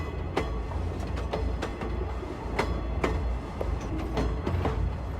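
A train in Oceanhorn 2 runs along its track, with a steady low rumble broken by regular sharp clickety-clack wheel beats over the rails, close and fairly loud, with no talking.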